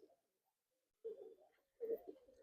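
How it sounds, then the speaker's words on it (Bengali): A male pigeon coos twice, low throaty rolling calls each lasting under a second, close and fairly soft, with a brief faint coo at the start and quiet gaps between. "খুব সুন্দর একটা নর পায়রা"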